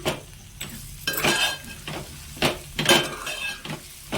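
Bottle gourd pieces frying in a pan are stirred with a utensil, giving repeated scraping strokes over a steady sizzle, close and fairly loud, with no talk.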